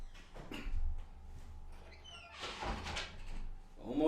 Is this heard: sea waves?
no